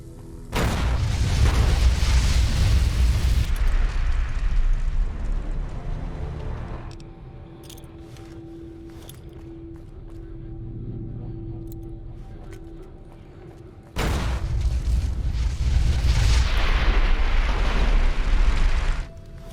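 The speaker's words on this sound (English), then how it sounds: "Yes, there'll be an explosion when the gas is ignited" Gas ignited into an explosion in the video game Fallout, a loud sustained rumbling blast, then a lull with a low hum, then another heavy roaring burst.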